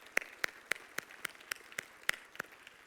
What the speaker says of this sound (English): Let's give a round of applause for all those.